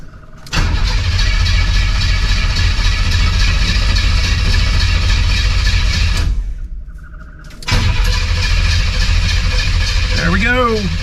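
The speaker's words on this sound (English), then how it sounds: "let's crank this over and see if we can get some oil pressure" A Blueprint crate engine in a 1971 Pontiac Firebird cranks over on the starter without firing. A loud, steady, droning whir runs for several seconds, stops briefly, then resumes, with a voice speaking near the end.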